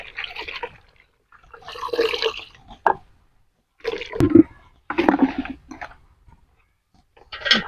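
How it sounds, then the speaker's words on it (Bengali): Wild field greens (saag) are swished and sloshed in a basin of water to rinse out sand, producing short, close splashing bursts separated by brief quiet gaps. "ভালো করে ভাসিয়ে ভাসিয়ে ধুতে হবে।"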